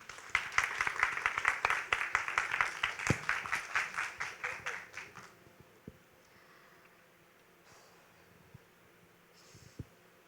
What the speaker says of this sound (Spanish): Recibimos con un fuerte aplauso Victoria con las llaves escondidas del océano